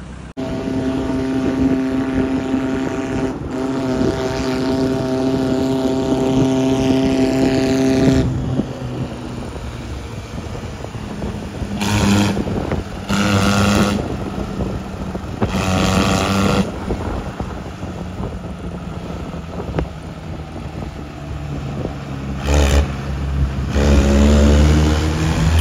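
A tractor engine runs steadily throughout, a low continuous rumble with strong harmonic drone, alone with no talk, punctuated by a few louder bursts near the end.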